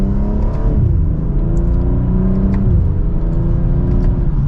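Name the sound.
2024 BMW M240i xDrive accelerating from second gear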